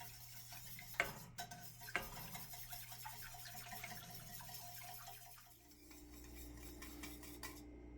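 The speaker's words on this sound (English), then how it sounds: "Over medium heat, cook and whisk constantly for 12 minutes." Pudding for eggnog being whisked in a pot over medium heat, the whisk clinking and ticking against the metal in a steady, close rhythm, with a couple of sharper knocks and a low hum beneath.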